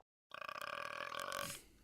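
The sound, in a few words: burp sound effect in the Grossology video game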